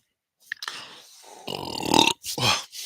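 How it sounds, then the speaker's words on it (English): A long, loud, gravelly burp rising close to the mic after a cold drink in a bar, followed by a brief voiced grunt. "I might burp, so I do apologise."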